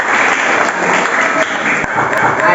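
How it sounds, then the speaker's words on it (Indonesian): A school class at SMPN 10 in Bogor clapping together in a classroom, a dense, continuous patter of many hands that stays loud and even throughout. "tepuk tangan lagi."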